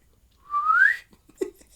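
A person whistles a single rising note, clear and close, lasting about half a second, followed by a faint short sound and quiet.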